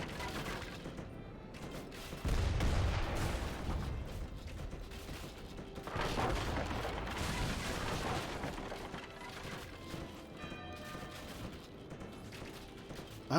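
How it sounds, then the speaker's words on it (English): Hand mortars firing in an Age of Empires III battle, with muffled booms and rumbling blasts mixed into a busy din of clanking mechanical clatter and creaks, moderately loud and overlapping. "Oh, the hand mortars have incredible range."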